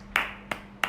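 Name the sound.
audience clapping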